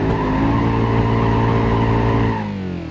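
A car in the driving simulator BeamNG.drive accelerating and skidding, a loud sustained tire squeal over a droning engine that eases off near the end.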